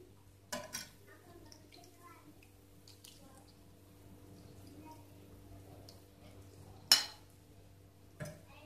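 A spoon stirs güveç stew, cooked only in its own juices, in an earthenware clay pot. It makes a few sharp clinks and soft scrapes against the pot, quiet and close, with long near-silent gaps between.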